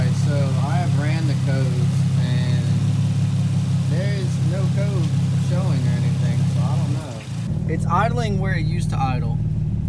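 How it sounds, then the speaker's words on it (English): A Nissan 350Z engine with a misfire idles with a steady, low rumble close by. A brief dip in the note hints at a stumble, while someone speaks over the engine almost throughout. "It's idling right around there."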